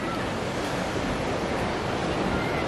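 Steady broadband surf from ocean waves rolling onto a beach fills the whole stretch, a continuous wash with some wind rumble and no distinct breaks or voices.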